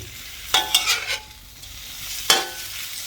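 Fresh vegetables tossed and stirred together in a pan, with a few close scraping, rustling strokes in a quick cluster and another after a pause, over faint background sizzle.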